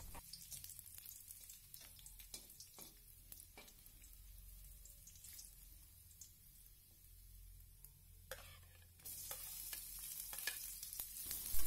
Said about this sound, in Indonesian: kalau bawang putihnya udah berwarna kekuningan, udah kecium harumnya, baru aku masukin bawang merahnya.